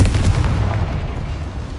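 Fire spell explosion cast in the Hogwarts Legacy video game, a loud, dense boom with a rumbling low-end tail that fades slowly over under two seconds, no voices.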